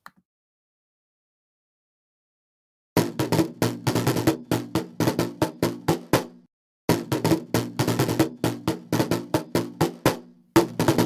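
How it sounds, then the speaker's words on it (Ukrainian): A drum is struck repeatedly in quick rhythmic patterns, crisp and close, after a few seconds of silence, with a short pause midway. "ви вірно здогадалися це був звук барабану"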